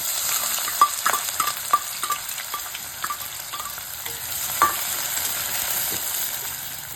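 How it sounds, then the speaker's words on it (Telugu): Finely chopped onion pieces fry in hot oil, a close, continuous sizzle and crackle broken by occasional scrapes and taps of a stirring spoon, with no talking. "వేడెక్కిన తర్వాత మనం సన్నగా తరిగి పెట్టుకుని ఉల్లిపాయ ముక్కలు కొంచెం వేసి వేయించాలి"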